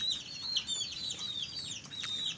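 Chickens in an aviary cage cluck and chirp in soft, overlapping calls, fairly quiet and continuous against a faint background hiss.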